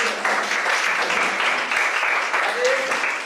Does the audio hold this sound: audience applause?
yes